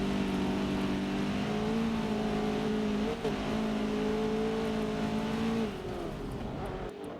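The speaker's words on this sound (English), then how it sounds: "I'm trying to talk over the sound of the fearsome motor here of the 695" The engine of a 695 race car in a Forza racing game drones steadily at high revs, loud and sustained with slight pitch shifts before easing off near the end.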